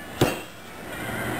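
A hammer strikes fresh garlic once to crush it while cooking Cajun crawfish étouffée, a single sharp knock near the start followed by quiet kitchen room tone.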